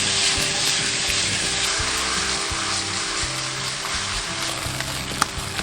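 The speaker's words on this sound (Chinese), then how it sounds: "下入菠萝、青红椒，然后开大火翻炒" Shrimp stir-fried with pineapple and green and red peppers over high heat, a steady loud sizzle with scraping and stirring clatter throughout and no talking.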